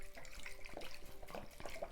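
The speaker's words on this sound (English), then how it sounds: "pour in your favourite white wine vinegar" White wine vinegar pouring from a bottle over broken-up eggplant in a plastic bowl, a steady liquid trickle with small splashes, close and moderately loud, running alone for about two seconds.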